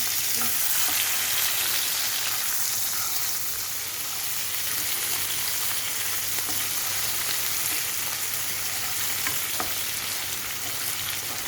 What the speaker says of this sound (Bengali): এবার কড়াইয়ে আমি পেঁয়াজ কুচি, তেল দিয়েছি, পেঁয়াজ কুচি, রসুন কুচি